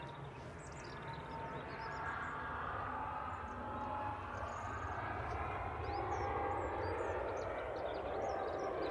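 An Emirates airliner at Manchester Airport fills the scene with a steady, broad jet roar that holds loud and unbroken for the whole stretch, swelling slightly toward the end.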